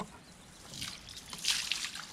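Water trickles and drips off the ceramic-coated paint of a Saab 9-3, quiet splashy dribbles swelling in short bursts against a near-silent background.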